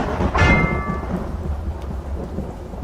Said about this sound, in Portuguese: Assim que eu escutei o som de um trovão